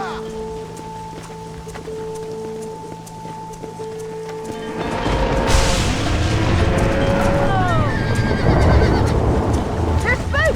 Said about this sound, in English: They're spooked! We have to stop the stampede!